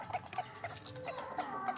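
Soft, repeated clucking from a chicken, short rhythmic calls a few times per second, fairly quiet and close with a faint background.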